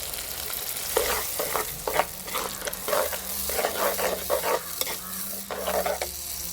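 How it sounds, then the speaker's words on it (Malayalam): Onion and blended tomato sautéing in a pan with salt, a constant loud sizzle under rapid repeated stirring scrapes in a busy irregular rhythm, close up with no voices. "ഉള്ളിനോട് നല്ലതായിട്ട് വഴണ്ടിട്ടുണ്ട്"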